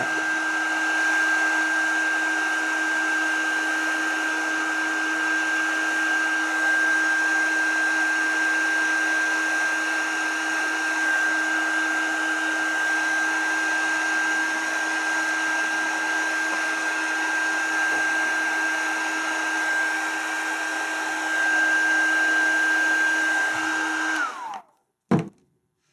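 A heat embossing tool blows hot air in a steady, droning whir with a high whine, running for about twenty-four seconds before it cuts off, followed by a single thunk.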